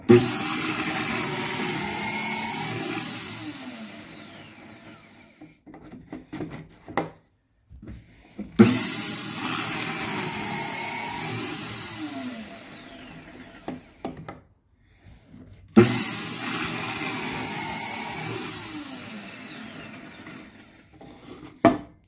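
A Kreg Foreman pocket hole machine drill whines into wood three times in long bursts, each winding down before the next, with quiet pauses and small clicks between.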